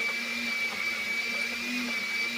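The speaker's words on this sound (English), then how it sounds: "I'm going to go ahead and throw on our top, and we're going to blend that on high" A blender running on high, crushing ice for a Caribbean Cooler smoothie mocktail: a loud, steady motor whine with a sustained high tone and a grinding undertone, close by, without voices.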